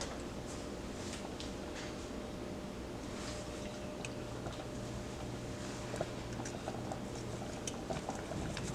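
Cornmeal porridge simmering in a pot on the stove, a steady close bubbling and soft popping hiss that carries on evenly throughout, with small occasional pops and no talk.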